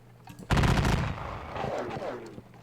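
Line infantry fires a volley in a Napoleonic-era Rhine wargame: a loud crackling burst of massed musket shots that fades into a rolling, rumbling echo, heard alone.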